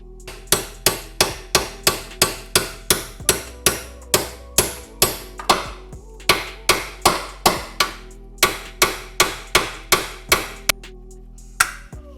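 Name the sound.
hammer striking a seized car part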